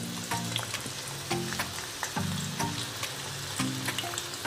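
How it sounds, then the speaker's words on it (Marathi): Hibiscus leaves dropped into hot oil for homemade hair oil, crackling and sizzling up close, with bursts of spattering and a few soft stirring clinks. "जास्वंदीचे पानं ॲड करते."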